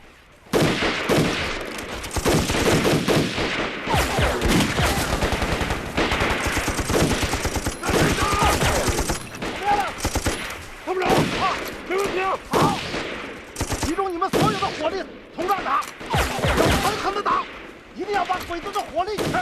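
Dense gunfire fills a war film battle scene against Japanese troops: rapid machine-gun bursts and overlapping shots crack loudly and continuously, with voices shouting at moments amid the barrage.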